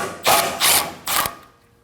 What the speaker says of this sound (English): Go ahead and take that out using a 10mm socket.